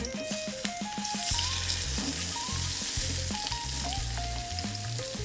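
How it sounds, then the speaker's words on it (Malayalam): Fish fries in coconut oil with curry leaves, giving a loud, steady, close sizzle and crackle throughout, with background music playing over it. "അതിലേക്ക് നല്ല വെളിച്ചെണ്ണ ഒഴിച്ചു കൊടുത്ത് ഇതാ നമുക്ക് ഫിഷ് ഫ്രൈ ചെയ്തെടുക്കാമേ"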